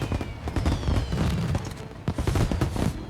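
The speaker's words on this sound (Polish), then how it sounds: "Fajerwerki lecą." Fireworks burst in the video game Mafia: Definitive Edition, a ragged series of sharp pops and booms with crackling tails, irregular and fairly close, with no talk.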